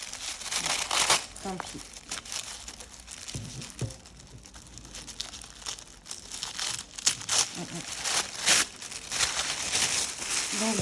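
Tissue paper wrapping a Gentle Tarot card deck is crinkled and torn open in loud, close bursts of rustling and ripping, with someone speaking briefly between them.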